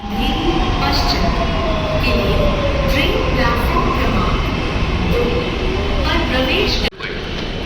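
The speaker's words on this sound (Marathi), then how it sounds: "आता आलोय मी आरे मेट्रो स्टेशनला आता इथून मेट्रोने डायरेक्ट बोरोली जाणार" A Mumbai metro train near Aarey station rumbles steadily along the track with a rising whine and rhythmic clatter, loud and close, before the sound abruptly drops.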